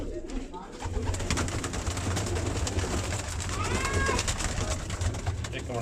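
Pigeons call inside a loft of racing pigeons, including red birds, with steady low cooing and fluttering under ongoing background noise, plus a brief chirping call near the end.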